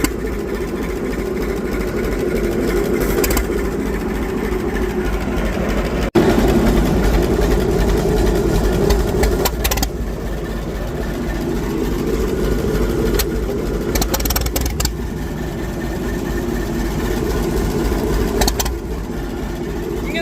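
McCormick-Deering 10-20 tractor engine running steadily after an ether start, a loud continuous low chugging throb that holds for the whole stretch with a brief change in pitch partway through.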